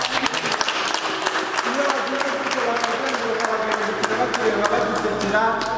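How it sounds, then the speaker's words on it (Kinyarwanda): Wedding guests applaud in a sustained wash of clapping, mixed with voices and tonal, sung or musical sounds carrying through the room for the whole stretch. "Amashyi menshi."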